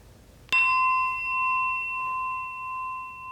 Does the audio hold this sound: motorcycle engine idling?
no